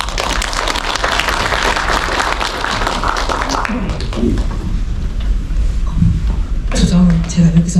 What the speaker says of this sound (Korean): 큰 박수 맞춰주세요